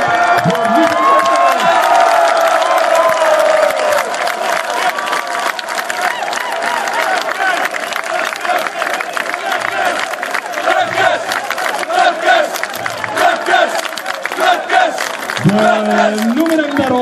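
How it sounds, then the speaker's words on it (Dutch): A large outdoor crowd on a town square applauds and cheers as football players are presented, with sustained dense clapping, shouts and an announcer's amplified voice at the start. "Een daverend applaus voor Michael Klepkens."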